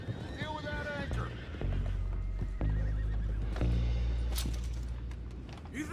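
Horses neigh and whinny in Red Dead Redemption 2, with hooves clopping and shifting beneath a heavy low rumble, one sharp whinny standing out early among the steady outdoor game noise.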